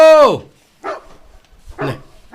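A loud, close dog yelp trailing downward, followed by a couple of rougher, softer barks or grunts spaced apart.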